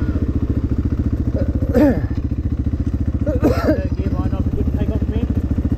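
Dirt bike engine droning steadily on a dry track with hop-over bumps, a constant close rumbling buzz with brief louder bursts around two and three and a half seconds, and people talking over it.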